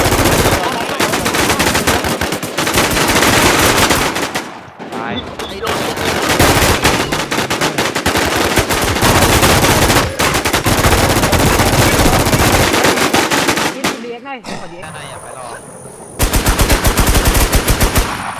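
Rapid machine gun bursts from a shooting video game rattle loud and dense almost without pause, with brief gaps around five and fourteen seconds and faint voices underneath.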